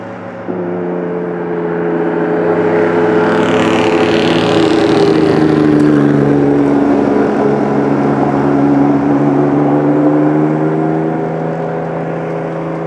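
A Porsche 962 LM and Bosozoku cars drive along a street in Japan, their engines giving a loud, sustained droning roar that swells in pitch and then fades slightly as they pass close by, with no talk.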